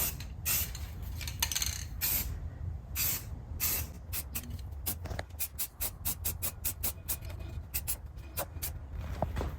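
Short bursts of aerosol spray paint hiss in a series of quick, close, evenly spaced blasts as parts of a Volkswagen Beetle are painted flat black inside a box that blocks overspray.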